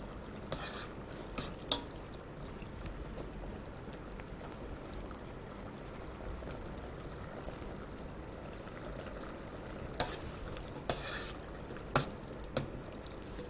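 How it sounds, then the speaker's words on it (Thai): Yellow and red spur chilies boil in a pot with seasoning, a low, steady bubbling simmer with occasional brief clinks and stirring knocks, faint and continuous, with no speech. "เราก็ต้มพริกให้สุกนะคะ"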